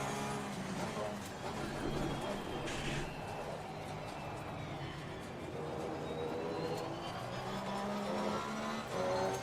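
Race cars racing in Assetto Corsa Competizione, including an AMG, with a steady roar of engines and faint tire noise running throughout, while someone talks over it.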